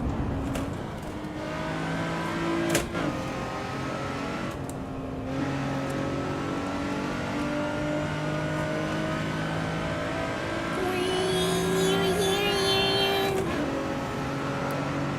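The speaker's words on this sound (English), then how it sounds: "Supercharged Toyota V6." A supercharged Toyota V6 car engine in the racing game Assetto Corsa Evo holds a steady, moderate drone that shifts pitch as it revs, with a brief sharp whine near the end.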